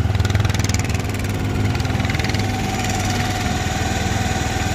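A Kymco F1 motorcycle engine idles steadily up close, a smooth, even, rapid putter that holds a constant pace throughout, with no talk over it.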